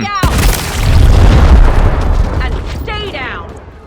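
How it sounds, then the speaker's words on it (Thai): A loud explosion in Gears Tactics bursts with a sharp crack, then a long rumbling roar that slowly fades, with brief voices and electronic chirps near the end. "ระเบิดไปเลย"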